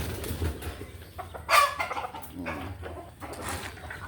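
Pet chickens clucking at feeding time in a parking area, soft scattered clucks and short calls near and quiet, with a louder squawk partway through and occasional rustling between.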